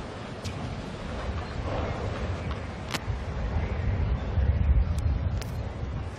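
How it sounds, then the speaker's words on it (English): Breeze buffeting the microphone at an outdoor tennis court during the 2015 China Open: a steady, low, rumbling wind roar that swells slightly toward the end, with faint sharp ticks. "This is a very breezy afternoon here."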